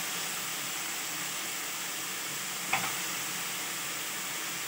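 Tomato pieces cook with turmeric, salt and chili powder in a pan for dal khichdi, a steady even sizzle with one brief clink of a spoon midway, no speech.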